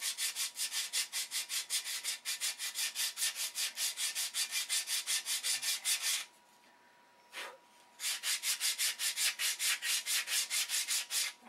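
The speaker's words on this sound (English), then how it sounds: "stack sanding ribs" Stacked wooden wing ribs for a homebuilt aircraft are sanded with steady, rhythmic back-and-forth strokes, close and loud. The strokes pause for about two seconds, then resume at the same even pace.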